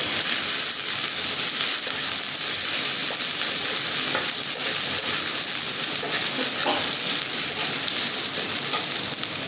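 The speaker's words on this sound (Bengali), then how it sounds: "এটা আমি ভালো করে সুন্দর করে ভাজা ভাজা করে নিয়ে নেব" Ginger-garlic and cumin paste frying in a pan for a prawn and water spinach dish, a loud, constant crackling sizzle with occasional stirring scrapes, close and uninterrupted by talk.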